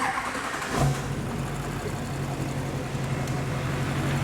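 A Duramax diesel engine cranks briefly and catches, then settles into a steady, close, low rumbling idle that holds for several seconds.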